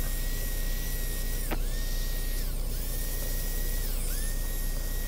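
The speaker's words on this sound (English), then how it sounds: "You'll see me sanding the outside." A wood lathe spins while a maple bowl is sanded, giving a constant droning motor hum with a high whine that briefly sags and recovers a couple of times, with no talking.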